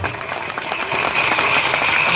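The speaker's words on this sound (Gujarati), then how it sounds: "તાળીઓથી વધાવીશું આપણે" Audience applause at a Jalaram Bapa bhajan gathering in Bopal, Ahmedabad, a steady crowd clapping that swells and grows fuller partway through, continuing without break.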